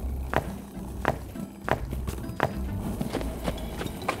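Four horses hauling loads along a track, hooves clip-clopping in a steady walking rhythm with sharp, evenly spaced strikes over low background rumble.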